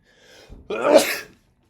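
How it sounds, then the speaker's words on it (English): A single loud, close sneeze preceded by a brief sharp inhale, then quiet. "I'm sneezing on camera."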